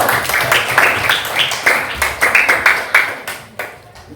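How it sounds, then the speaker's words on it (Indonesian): Steady clapping from a group of primary school students in a classroom, a run of sharp claps that rises and falls in waves before thinning out at the end. "Tepuk tangan untuk kelompok 1"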